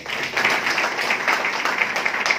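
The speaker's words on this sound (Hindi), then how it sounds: "अपने लिए एक जोरदार ताली बजा।" An audience at a business plan presentation applauds with brisk, steady clapping from many hands for a couple of seconds, close and moderately loud.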